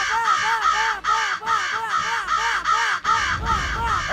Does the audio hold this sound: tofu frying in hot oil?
no